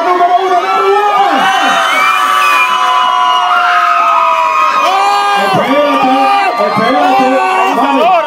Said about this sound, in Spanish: Aplauso para número uno, number one.